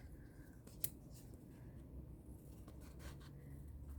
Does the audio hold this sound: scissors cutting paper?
yes